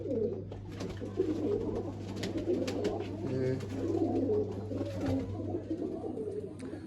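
Soft, repeated cooing of pigeons close by, overlapping calls against a low steady hum.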